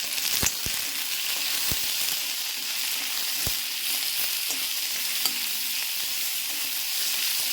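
Onion sautéing with a pinch of salt in a pan for a Kerala-style coconut crab curry, giving a steady broadband sizzle with occasional sharp utensil ticks, close and alone without voices.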